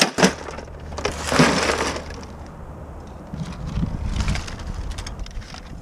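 A lifted Squarebody truck rolls over a copier, crunching and shattering glass in a loud burst, followed by further grinding, cracking and splintering under the weight.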